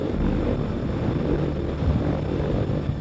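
A CH-53K heavy-lift helicopter gives off a steady, dense rotor and engine roar, continuous and fairly loud with no pauses.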